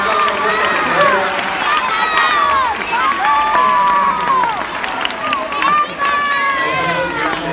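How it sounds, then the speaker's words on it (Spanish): A crowd at a school charity campaign event claps and cheers loudly, dense continuous applause with high children's shouts and whoops rising throughout, close and sustained. "Un aplauso fuerte que se oiga"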